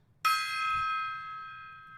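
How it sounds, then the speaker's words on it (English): A Tibetan singing bowl struck once rings out with a bright, sustained metallic tone that slowly fades over the following seconds, with a faint low murmur beneath it. "Tibetan singing bowl."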